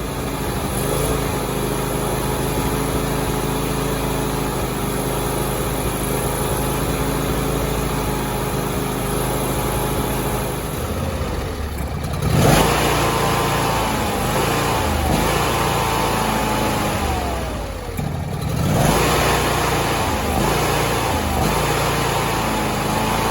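A John Deere X330 lawn tractor's Briggs and Stratton V-twin with a single-barrel carburetor runs loudly and steadily nearby, then surges twice in rising and falling swells before settling back, with no talking.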